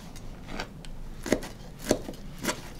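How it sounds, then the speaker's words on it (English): Knife roughly chopping dried shrimp on a board for Chinese sticky rice, three distinct sharp chops about half a second apart, close and moderately loud over a quiet background. "I'm just roughly cutting them up again to make them about approximately the same size as everything else"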